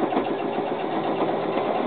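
A sewing machine runs steadily, stitching a quarter-inch seam through strip-pieced quilt fabric for a quilt square, with a continuous close mechanical whir and no talking.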